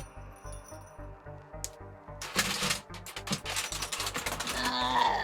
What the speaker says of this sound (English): I should be using my clicky keyboard